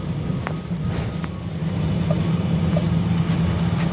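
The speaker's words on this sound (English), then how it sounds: "I'm currently in the bus right now." Riding inside a bus headed to a lighthouse: a steady low engine rumble and road noise fill the cabin, with a few faint clicks and knocks and no one talking.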